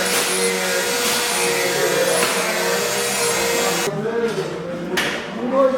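A Dremel rotary tool whines steadily while carving a wooden puzzle piece at a neighborhood center. The pitch wavers as the bit bites into the wood, and people talk in the background.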